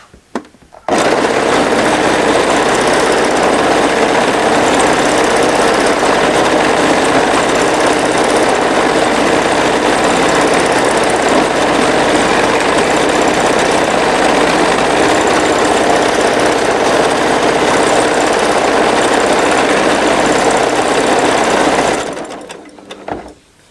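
A Baby Lock Jazz 2 sewing machine quilting stitches on a small piece of fabric. The rapid, steady mechanical whirring runs continuously and loudly for about twenty seconds, then stops abruptly.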